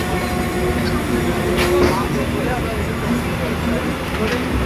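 A train pulls into Alamdanga railway station on the Khulna line, a steady rumble of rolling wagons with faint squeals and clatter throughout, and people talking over it.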